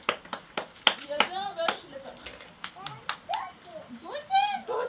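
Sharp, close hand claps in an irregular series cheer a small child at home, mixed with a voice and adult talk between the claps.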